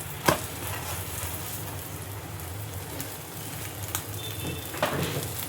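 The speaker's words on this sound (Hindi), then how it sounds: "फिर हम इसमें घी डालेंगे, चाहे तो आप बटर भी डाल सकते हो। फिर इसको अच्छे से सेक लेना है।" Carrot aloo paratha roasts in ghee on a pan with a constant close-up sizzle, broken by occasional sharp crackles and pops.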